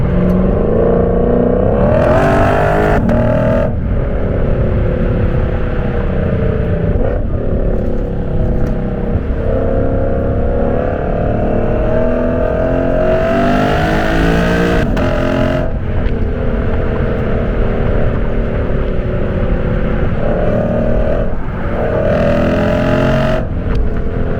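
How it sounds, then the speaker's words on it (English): A Lexus RC F's loud exhaust drones steadily while driving on curvy roads, its engine note rising and falling as it revs through gears, close and continuous. "if you don't like the sound of this car, then that sucks for you"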